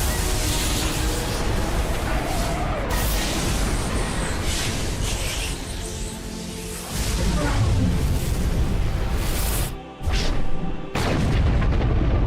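A huge, sustained explosion in the video game Mass Effect 2, a dense roaring rumble lasting many seconds with a brief dip and renewed blast near the end, with no talk over it.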